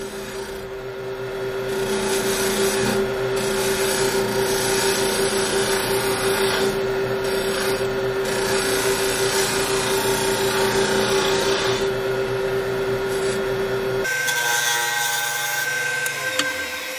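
A bowl gouge cuts the end of a wooden trinket box square on a woodturning lathe, making a continuous scraping hiss over a steady motor hum that stops abruptly near the end.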